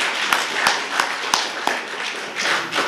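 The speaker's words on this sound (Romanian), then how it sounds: "vreau să aplaudăm pe domnii profesori" An audience at a Romanian conference applauds the professors with steady, moderately loud clapping, a dense wash of handclaps with a few sharper claps standing out, and no talk over it.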